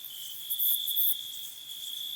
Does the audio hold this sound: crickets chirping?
yes